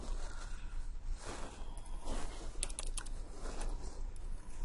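Keys clatter steadily as a command is typed on a computer keyboard while working in Cisco Packet Tracer, with a dense run of close, quick clicks and no talking.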